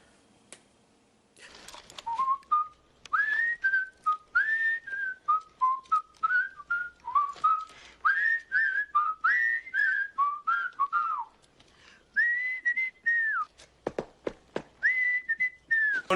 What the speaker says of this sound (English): they whistle the Andy Griffith theme